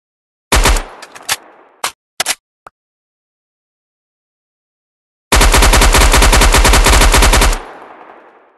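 Loud automatic gunfire in a Minecraft-style PUBG battle game, with a few separate shots and short bursts early on, then a long continuous rapid burst of about two seconds after a pause.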